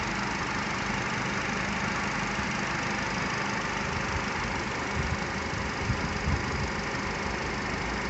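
A Nissan Qashqai J10 engine idling steadily while its air conditioning is being recharged, a continuous dense rumble with no pauses and no talking.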